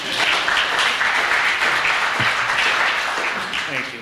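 Audience applause at a civic association candidates night greets the association president, a dense, steady clapping that fills the room at close range for the whole stretch.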